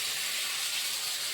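Water hitting a hot pan of cauliflower and egg curry, a steady loud steaming hiss that holds evenly from start to finish with no other sounds.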